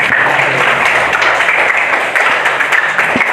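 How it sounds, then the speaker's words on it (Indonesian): Pupils in a school classroom give a round of applause, a steady, close mass of clapping that holds at full strength from start to finish. "Aplaus buat kita semua."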